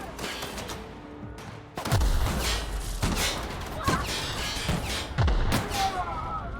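Heavy booming grenade explosions in The Outer Worlds video game arrive every second or so, with gunfire crackling between them in a chaotic, loud firefight.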